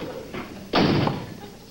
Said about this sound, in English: Stop slamming the door